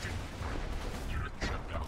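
Mortar fire in the video game Borderlands 2 booms through a dense, noisy battle mix, with heavy thuds and crackling blasts over steady background din.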